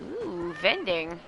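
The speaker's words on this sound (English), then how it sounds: "I think that was a cat in the game." Game cat meowing in Yakuza 0, a few short rising-falling meows over about a second, close and clear, with a person speaking over it.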